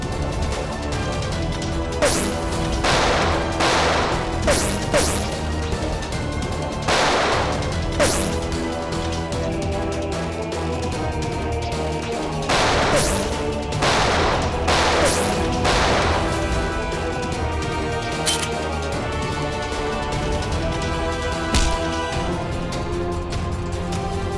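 Gunfire in a tense standoff scene rings out as a long series of sharp, loud cracks in rapid clusters, sometimes overlapping, over a steady dramatic music bed.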